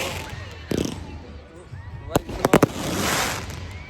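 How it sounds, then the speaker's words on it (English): Bonfire Night fireworks in Blackpool going off at a distance, a scattered series of sharp bangs and crackling bursts with a tight cluster of reports, over a murmur of background crowd noise. "There we go, you get some fireworks at the start of the video."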